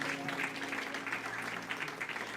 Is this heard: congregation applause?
yes